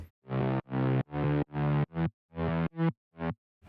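A distorted, gritty synth bass from a track plays a choppy riff of evenly spaced stabs, bright and saturated, with short gaps between notes.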